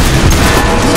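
Gunfire in a video game: a dense, loud burst of rapid booming shots, continuous and close, filling the whole moment.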